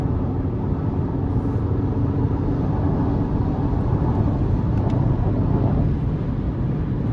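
A 2023 Chevy Colorado LT with the 2.7-liter turbo four-cylinder and 8-speed automatic accelerates gently under light throttle, a steady low engine drone and road rumble holding level throughout with no voices.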